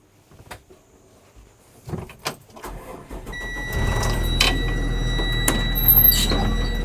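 Car door clunks and handling knocks give way to an engine starting up and a steady drone as the car pulls away toward a bus yard, close and growing louder.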